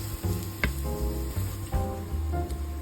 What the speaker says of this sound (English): in the same pan, we saute 1 head of garlic,